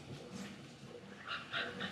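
A dog whimpers softly outdoors in a muddy spot, with short high whines repeating near the end over low background rumble.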